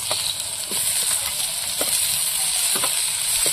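Fried mixed vegetables are added to a pan of browned onions for a fish-head mixed-vegetable chorchori and stirred. A continuous loud sizzle is broken by several scraping strokes of the spatula, recorded close with no talking.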